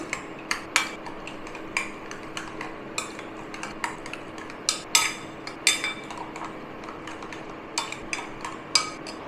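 Beaten egg is mixed with salt, coriander leaves, onion and green chilli in a bowl, with a spoon clinking and tapping against the dish in irregular light strokes over a quiet background.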